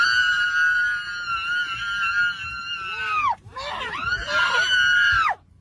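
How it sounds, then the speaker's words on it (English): A woman screams on a passenger plane, long piercing shrieks that break off briefly and then rise again, loud and close, with faint cabin noise underneath. "screaming for attention"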